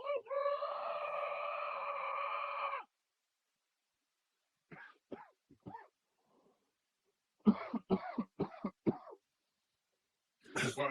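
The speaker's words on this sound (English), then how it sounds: "Chicken making its noise." A chicken lets out one long, hoarse crow near the start, followed by scattered short squawks and clucks after a pause, close and alone without talk.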